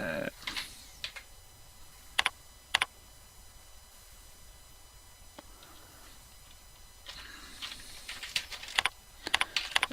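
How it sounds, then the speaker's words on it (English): Coordinates being typed on a computer keyboard, heard as bursts of sharp, close keystroke clicks with quiet pauses between them and faint talk in the background. "You can type in the coordinates."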